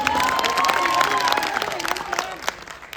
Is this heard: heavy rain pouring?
no